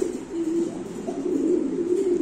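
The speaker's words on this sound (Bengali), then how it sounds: "সো আমরা আরেকজন কবুতর দেখাচ্ছি আপনাদের" Racing pigeons coo in a steady, soft, low murmur, with repeated throaty calls continuing close by and no talking over them.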